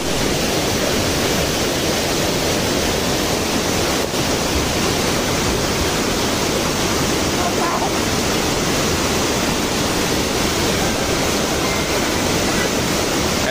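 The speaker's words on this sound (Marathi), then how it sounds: "आहे सोमनाथचा धबधबा एकदम जबरदस्त" The Somnath waterfall roars in a dense, unbroken wash of falling water, loud and close throughout, with faint voices barely present beneath it.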